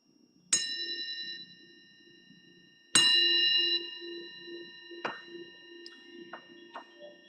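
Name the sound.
meditation bell ringing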